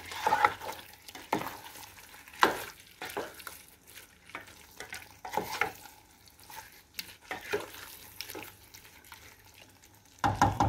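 Shrimp curry cooks in a pan: soft sizzling under repeated scraping stirs and clanks, in uneven bursts with quiet gaps and a louder flurry at the end. No one speaks.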